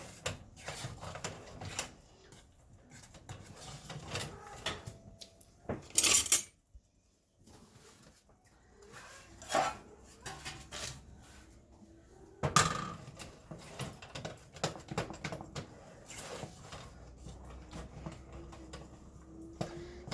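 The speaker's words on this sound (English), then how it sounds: "you stir it till it's smooth, or smooth enough to suit you" A spoon stirs a thick butterscotch fudge mixture in a pan, producing close, irregular scrapes and clinks against the pot, with a brief louder clatter partway through and a near-silent gap before the stirring resumes.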